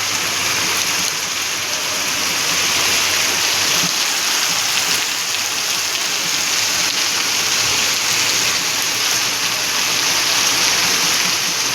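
Sudden heavy nighttime rain drumming steadily on surfaces, a constant close rushing wash of water that holds its strength the whole time, with no voices over it.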